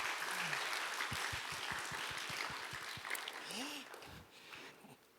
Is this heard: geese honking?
no